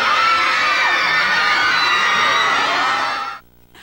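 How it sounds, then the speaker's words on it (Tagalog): A dense crowd of fans in a shopping mall cheers and screams in one sustained, loud roar, with shrill children's voices high in the mix, before the noise drops off abruptly near the end. "Dumagundong ang hiyawan."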